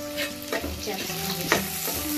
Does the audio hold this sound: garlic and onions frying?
yes